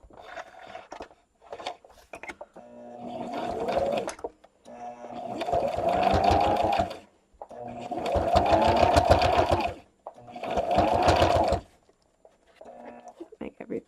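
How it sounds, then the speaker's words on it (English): A sewing machine stitches a liner into a crochet bag in three long, loud, close runs of rapid needle chatter with short stops between them, and a person talks during the pauses. "we're just going to sew all the way along right down to the bottom."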